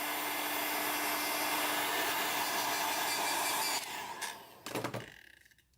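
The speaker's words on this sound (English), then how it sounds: "I like to sap it with a heat gun just to speed things up a little bit." A heat gun blowing hot air to cure resin on a double-bladed fidget spinner gives a steady, close, whooshing fan roar that cuts off near the end, followed by a few brief handling knocks.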